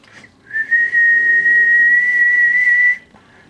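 A person whistles into a CB radio microphone on a President George export mobile set, holding one loud, steady, unbroken tone for about two and a half seconds after a short breath.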